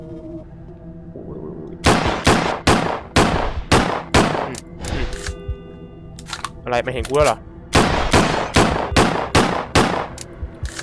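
Rapid bursts of gunfire from the horror video game Shift At Midnight, loud sharp shots fired in quick volleys with a short pause midway, heard under excited talk from a player.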